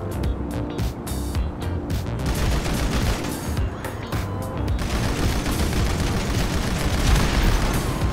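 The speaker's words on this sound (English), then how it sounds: "I'm going to shoot at the armored bike first, and count the bullets which are left" Gunfire aimed at an armored Maibatsu Sanchez dirt bike in the GTA video game: a dense, continuous fusillade of rapid shots and impacts, loud and close, over a steady engine rumble.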